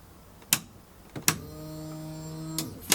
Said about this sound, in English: Fuel pump, turned on.